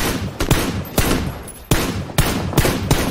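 Rapid gunfire in the battle royale game PUBG during a league match: several loud broadband bursts and single cracks in quick, uneven succession, close and dominant with no talk.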